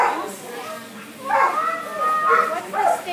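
Dogs at a club picnic protection demo bark and yip excitedly in close, loud bursts, with some whining between them and people talking over the noise.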